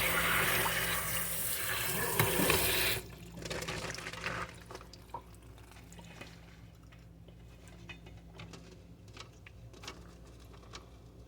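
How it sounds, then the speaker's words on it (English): Water gushes steadily from a tap into a pot for about three seconds, then stops, leaving quiet clinks and faint drips. "we're going to get these into our pot and get them covered with water."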